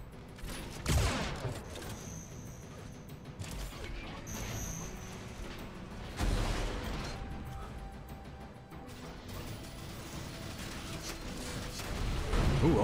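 Rocket explosions in an Unreal Tournament competitive match, several booming blasts and crashes amid ongoing in-game mechanical clatter, loud and busy across the stretch.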